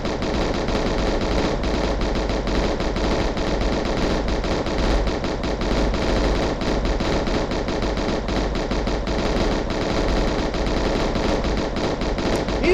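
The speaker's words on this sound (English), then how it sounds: "Oh, is he stuck shooting?" Continuous rapid gunfire from a video game, a dense unbroken stream of machine-gun bursts that stays loud and steady the whole way through.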